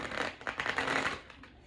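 Tarot cards being shuffled close by, a quick papery riffle and flutter of cards lasting just over a second.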